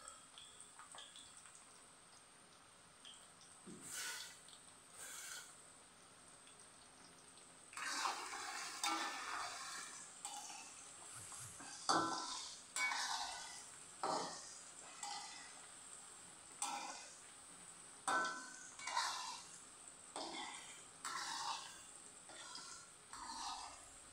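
Vegetables for sayur asam being fried and stirred in a pan: a soft background sizzle broken by a regular series of scraping stirs and clatters, fairly faint and close, with no talk.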